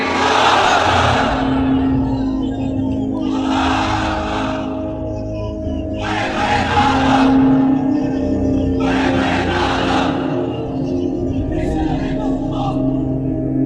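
A large gathering at a Bangla Islamic sermon shouts the takbir, "Allahu Akbar", in loud unison, roaring bursts answering a lead call about every two and a half seconds, repeated five times.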